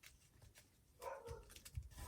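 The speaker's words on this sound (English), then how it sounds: "my dog's now barking because another dog is barking at him" A pet dog barks in reply to another dog barking, a few short yips and woofs starting partway through, moderately close and fairly loud against a quiet room.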